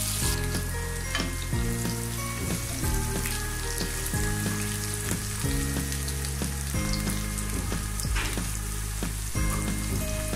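Chopped onion and garlic fry in hot oil with panch phoron for a vegetable khichuri, giving a steady, continuous sizzle beneath prominent music.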